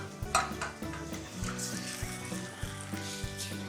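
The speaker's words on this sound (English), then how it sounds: "you add the beef." Beef dropped into soft, mushy tomatoes in a pot for beef vindaloo, frying with a steady close sizzle and repeated metal stirring clanks, no voices.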